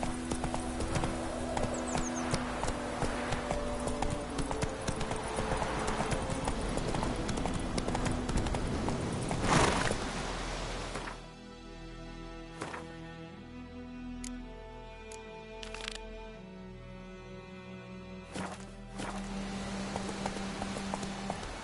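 Horse hooves clip-clop as the animal is ridden, rhythmic hoof strikes over a busy background that thins out midway, leaving sparser distinct clops, with a voice urging it on.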